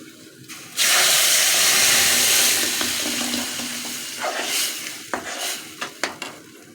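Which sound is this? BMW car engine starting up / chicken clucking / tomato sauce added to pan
tomato sauce added to pan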